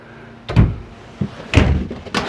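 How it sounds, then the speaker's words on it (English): An RV drawer sliding shut on ball bearing glides in a 2017 Thor Quantum WS31 motorhome, giving a few quick close knocks and thuds in succession, loud and clear without talk. "So again, ball bearing glides on the slide."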